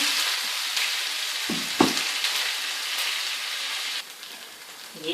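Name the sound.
ginger and garlic frying in pan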